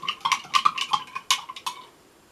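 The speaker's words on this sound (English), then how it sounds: "So I'm going to put in another teaspoon of salt and another one, and I'm going to stir." A teaspoon stirs salt into water, giving a quick run of bright, irregular metallic clinks and scrapes that fade toward the end, close and alone.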